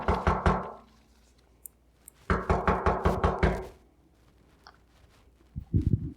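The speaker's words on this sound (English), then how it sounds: "Joe heard a knock at his front door." Hard knocks pound a wooden front door: a short burst of raps, a pause, then a longer run of about eight heavy blows, close and loud with nobody talking.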